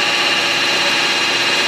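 A Mikron F75 milling machine runs on a single-phase inverter, giving off a steady, loud, broadband whir with a hissy mechanical drone that holds unchanged throughout, with no voices.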